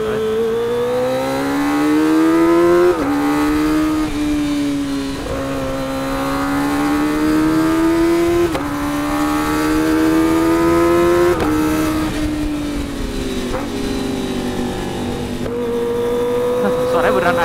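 A Kawasaki ZX-25R with an aftermarket exhaust revs repeatedly, its pitch climbing and dropping in several throttle blips that stay fairly smooth and mellow, up close and loud, with a person talking over it.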